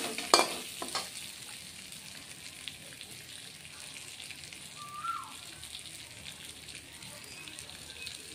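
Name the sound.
potatoes frying on low heat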